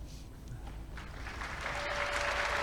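Applause swelling gradually from a scattered start into fuller, louder clapping.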